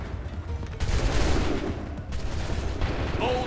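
A musket volley rings out in Assassin's Creed 3, a loud burst of massed gunfire that rolls into a ragged, crackling roar and then trails off, with no voices over it.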